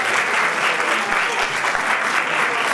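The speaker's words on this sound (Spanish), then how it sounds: "démosle el aplauso a Pablo" An audience at a talk held in a chapel gives a round of applause, a dense, loud and sustained wash of many hands clapping together without pause for a few seconds.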